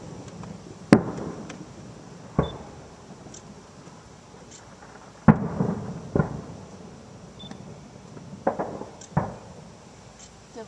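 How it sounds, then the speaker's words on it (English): Several sharp fireworks bangs go off at irregular intervals during a homecoming football game, some followed by crackling, with faint background chatter between the blasts. "They let off fireworks during homecoming?"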